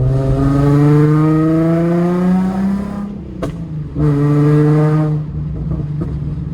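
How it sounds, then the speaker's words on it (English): Nissan 350Z with welded test pipes, stock resonator and MagnaFlow muffler revving loudly, then a sharp exhaust pop as the engine drops during a double clutch, followed by renewed revving. "like that pop I just did there, all I did was double clutch"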